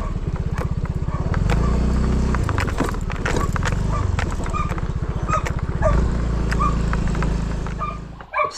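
Dogs chasing a duck on a farm, with rapid rhythmic barking and scrabbling running close by, plus scattered thumps and knocks, ending in a brief burst.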